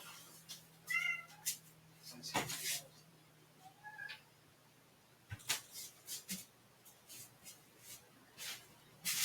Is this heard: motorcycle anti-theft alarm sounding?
no